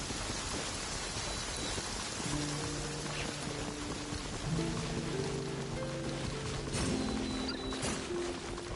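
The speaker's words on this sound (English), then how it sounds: "The rain stopped." Steady rain falls in the Genshin Impact game world, a dense continuous patter and hiss at moderate level, with sustained musical tones entering partway through.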